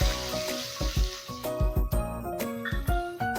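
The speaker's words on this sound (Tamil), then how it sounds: "இந்த டைம்ல நறுக்கிய பூண்டும் பச்சை மிளகாவும் சேர்த்துக்கிறேன்" Oil sizzling and spitting in a pan, with bursts of crackling as chopped garlic and green chilli fry, interrupted by sharp metallic clinks of a utensil.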